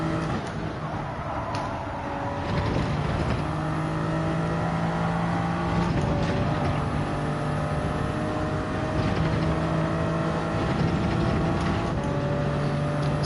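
Race car engines droning and shifting pitch in Gran Turismo 7 as a Nissan GT-R and other cars run through a chicane, a steady loud roar with revs rising and dropping across gear changes.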